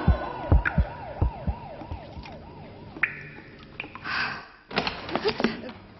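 A wailing emergency siren in a Hindi-language television advertisement for paying service tax rises and falls rapidly for about three seconds, mixed with sharp thuds, a gasp and other dramatic sound effects.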